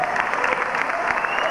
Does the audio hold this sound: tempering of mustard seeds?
no